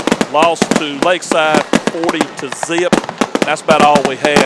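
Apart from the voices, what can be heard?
fireworks going off outside during a football broadcast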